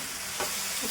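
Boiled broad bean pods drop into a pan of sizzling tomato and onion curry, a close steady fry hiss with a brief thump and stir as they go in.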